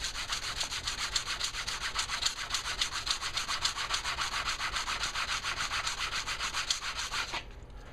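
A jointer blade's back slides rhythmically across a 220 grit stone, dozens of quick, even rasping strokes close up that stop abruptly near the end.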